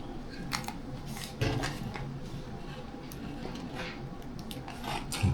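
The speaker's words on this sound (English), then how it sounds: "take the scissors, stick them in here, and I want you to cut all the way around this" Scissors snip around a plastic soda bottle, with faint, irregular crunching cuts and plastic crackles at close range in a quiet room.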